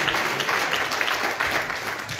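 A church congregation gives a dense round of applause on a Sunday service, close and steady for a couple of seconds without speech over it.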